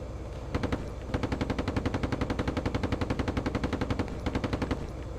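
Rapid bursts of machine-gun fire in a military video game, a steady stuttering rattle of rounds with a brief pause near the start and another toward the end, loud and close with no voices.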